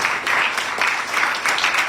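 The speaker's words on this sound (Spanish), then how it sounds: "Denle un aplauso a Cristo." A congregation at a Wednesday church service claps, close and fairly loud, with a steady pulsing rhythm across the short stretch.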